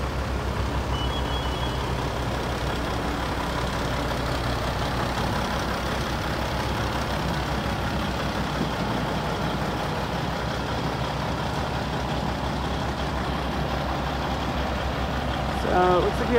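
A fire truck engine idles steadily at a structure fire, a constant low diesel rumble with faint intermittent beeping and distant voices.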